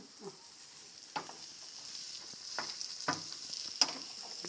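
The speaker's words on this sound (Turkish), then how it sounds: "Cızırdamaya başladı." Steady hissing sizzle of menemen frying in a pan, punctuated by occasional sharp clicks and scrapes of stirring, close and fairly quiet.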